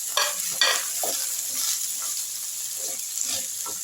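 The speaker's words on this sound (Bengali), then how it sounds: "কপি, আলু, গাজর সব সবজিগুলো দিয়ে আমি খুব ভালো করে একটু নেড়ে চেড়ে নিচ্ছি।" Cauliflower, potato and carrot fry in a pan while a utensil stirs them, giving a few sharp scraping strokes over a soft continuous sizzle, close and fairly quiet.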